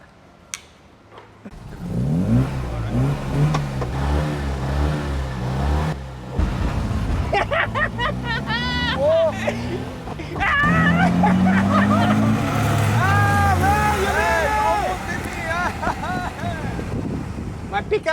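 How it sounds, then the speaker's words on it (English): A Mini and a Fiat 500 race from a standstill in a drag race, with engines revving up through rising gear sweeps under wind buffeting on the microphone and occasional voices. "So let's see if I can beat you in the drag race."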